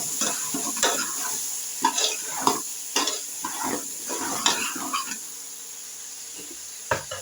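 Vegetable pieces for sambar fry in oil in a pan with a soft background sizzle, broken by repeated spoon scrapes and stirring clatter at irregular intervals.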